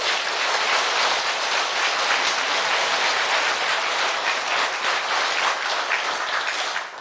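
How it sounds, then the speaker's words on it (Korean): A congregation at the Buddha eye-opening consecration ceremony at Anmyeonam temple claps together, producing a dense, continuous wash of applause that stays loud and even before dropping off at the very end. "우리 모두 박수로 보냅시다"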